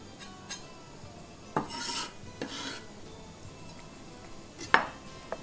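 Garlic gets stirred into melted butter and oil in a pan, with a few scraping strokes and metallic clinks of a utensil over a quiet, faint sizzle.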